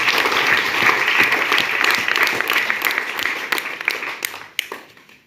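A church congregation bursts into sustained applause and clapping, loud and dense at first, then thinning and fading out near the end with a few scattered claps.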